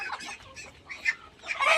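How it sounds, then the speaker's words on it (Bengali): Desi chickens on a native poultry farm give a short, close run of clucking and soft squawking calls, several overlapping birds with nobody talking. "এটা আমাদের দেশি মুরগি খামার"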